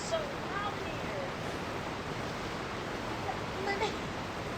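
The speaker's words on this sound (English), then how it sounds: "Oh my gosh, the water is so loud here." Continuous loud roar of rushing water, steady and close, with faint higher chirps or squeaks rising briefly above the wash.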